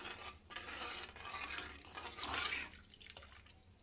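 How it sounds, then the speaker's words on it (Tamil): Rice porridge made with roasted rice simmers in a pot, giving a soft, continuous bubbling and burbling with faint liquid churning, fairly quiet and close, with no talking. "இப்போ கொதி வருது பாருங்கள் இது கொஞ்சம் நல்லா பாயில் ஆகட்டும்"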